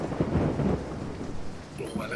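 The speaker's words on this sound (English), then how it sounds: "Oh, I like this storm." A thunderstorm from the film The Green Mile sounds with a deep rumble of thunder at first, then steady rain falling on surfaces, moderately loud.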